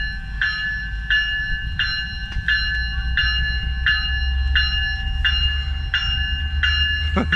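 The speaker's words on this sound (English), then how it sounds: "And there goes the train." A train runs past King City station with a steady rumble underneath and a repeating ringing bell or tone pulsing about every half second, loud and close.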